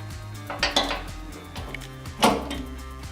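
The doors of a woodworking saw machine are opened after it has been disconnected from the power, giving a few metallic clanks and knocks over a low steady hum.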